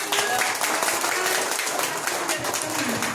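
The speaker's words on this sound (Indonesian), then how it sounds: "Tepuk tangan dong buat kalian." Applause at a church gathering: a crowd clapping continuously and fairly loudly for a few seconds, with voices mixed in.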